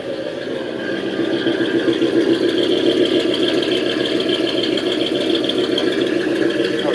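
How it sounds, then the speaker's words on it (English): A truck engine with a Flowmaster exhaust idles steadily nearby, a loud, even low rumble with a slight rattle that holds for several seconds, alone with no voices. "Flowmaster actually has a pretty good sound to it."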